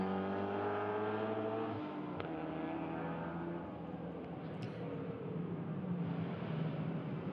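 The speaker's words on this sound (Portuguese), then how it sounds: "neste momento com o BMW a conseguir passar para a frente do Ford Capri" Racing cars roar past at a Caterham festival race as a BMW overtakes a Ford Capri, loud engines droning steadily with shifting pitch and a brief sharp click partway through.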